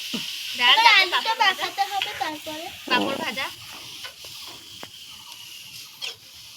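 Dal is poured into a hot pot at an outdoor picnic cooking setup and sizzles with a steady hiss, with stirring noise, under clear nearby talking voices.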